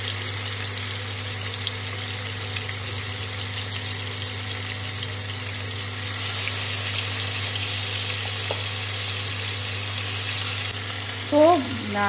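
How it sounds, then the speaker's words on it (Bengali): Chicken pieces rubbed with salt and turmeric fry in hot oil, giving a steady, close sizzle that holds throughout, with a short clatter near the end. "এবার আমি চিকেনটা একটু ভেজে নিই"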